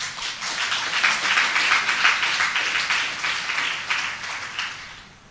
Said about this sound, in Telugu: చప్పట్లు కొట్టకూడదా?